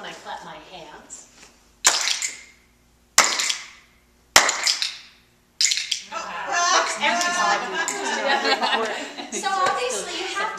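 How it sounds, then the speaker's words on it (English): Four sharp hand claps about a second apart during dog-training timing practice, each paired with a crisp clicker click, followed by people laughing and talking. "click, please, when I clap my hands"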